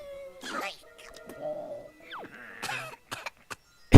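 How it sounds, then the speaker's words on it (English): A cartoon pony fakes a fit of coughing and gagging, a string of short raspy, squeaky vocal bursts with comic yelps over about four seconds, ending in a sharp loud burst. "Pretending to cough and gag."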